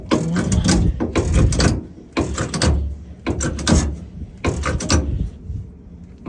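Mechanical clanks and ratcheting strokes in a shop as a part is tightened and a jack-like mechanism is pumped up, coming in about five separate bursts of rhythmic metallic working, close and fairly loud.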